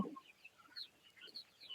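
Broiler chickens about 47 days old give faint, scattered clucks and soft calls at a distance, several brief notes spread across a quiet farm shed with no talk.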